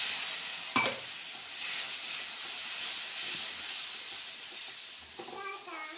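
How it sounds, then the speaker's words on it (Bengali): A spice paste of ground ginger, cumin powder, tomato and a pinch of sugar sizzles and hisses as it is fried for a prawn curry, with a sharp burst of spatter early on and a soft, steady fry after it. "মশলাটা কষিয়ে নেব।"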